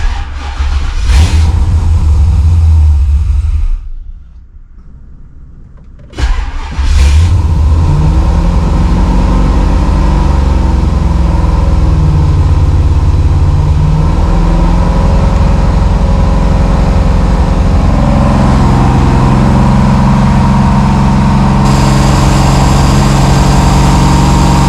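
A Holden VL Calais engine fitted with a Harrop 2300 supercharger runs loud and steady at a high idle, with a brief drop in level near the start before it settles into a continuous drone.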